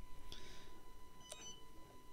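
A Flywing FW450L V3 helicopter remote gives two short, thin electronic beeps about a second apart, fairly faint over a steady background hum.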